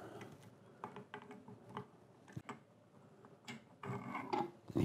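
A check valve is slowly lowered with pliers into a 4-inch submersible pump, giving quiet, close, irregular metallic clicks and scrapes that bunch together toward the end.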